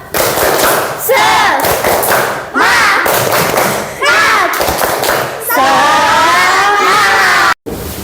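A primary school class performs a rhythmic group clapping chant in the classroom, with loud bursts of claps and children's voices chanting together, ending with a brief pause.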